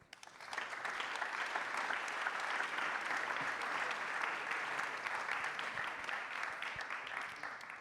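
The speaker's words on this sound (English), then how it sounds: "I think they deserve a round of applause." A crowd at a product launch event bursts into sustained applause, dense even clapping that rises quickly and holds steady before easing slightly at the end, with no voices over it.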